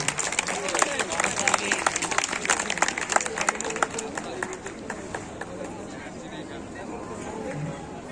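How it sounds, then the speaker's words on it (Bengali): An audience at a Bangladesh Islami University function claps to welcome a special guest; dense, fairly loud applause with crowd murmur fills the opening seconds, then thins into scattered claps and background chatter. "আমরা সবাই একটু আমাদের বিশেষ অতিথির জন্য হাততালি দিই"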